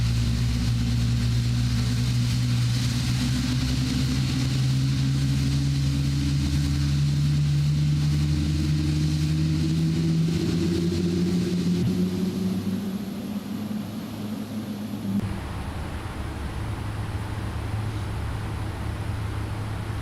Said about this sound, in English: right engine stable, left engine start